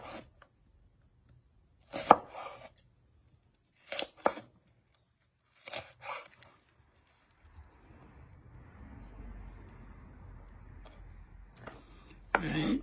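Onions being chopped with a knife for kofta burgers, several separate bursts of quick knife strikes with pauses between, then faint rustling and a last burst of chopping.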